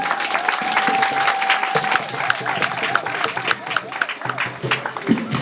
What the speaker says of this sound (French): je voudrais qu'on donne une grande ovation. On applaudit.